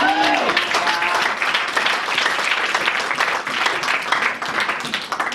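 A church congregation breaks into sustained applause, a dense, loud wash of clapping that fills the room for several seconds, with some voices mixed in.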